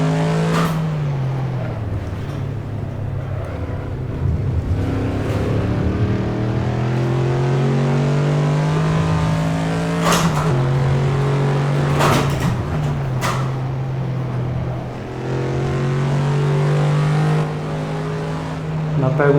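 A car driving on the Nürburgring track, its engine a steady loud drone that rises and falls in pitch through gear changes, with a few sharp knocks and clatters over the top and no talk.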